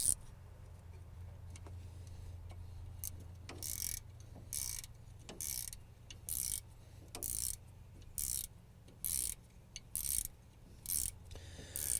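A hand ratchet tightens a bolt on a truck, a series of short, crisp clicking bursts in an irregular rhythm over a low steady hum, fairly close and moderately quiet.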